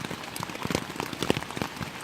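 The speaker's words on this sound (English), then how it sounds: "The rain drowns out the sound in the woods." Rain patters on a taut tent surface nearby in the woods, scattered drops tapping irregularly over a soft steady hiss.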